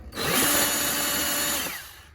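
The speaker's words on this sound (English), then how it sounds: "make sure your drill is in reverse" A power drill spins in reverse to back screws out while installing a DesignHouse three-light vanity fixture in a bathroom, a single loud whirring burst that rises, holds for about a second and a half, then winds down.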